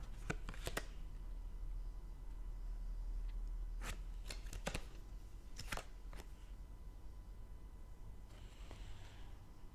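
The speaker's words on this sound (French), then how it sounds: "On va tirer une dernière carte." Tarot cards shuffled and one drawn, giving a few sharp riffling bursts and soft slaps spaced through the clip over a steady low hum, fairly quiet and with no voice.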